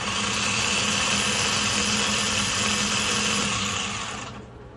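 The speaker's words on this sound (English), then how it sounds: "Starter's spinning." A car starter motor spins on a bench test with crusty, weak power at its S terminal, giving a loud, steady whirring drone that holds evenly and then cuts off near the end.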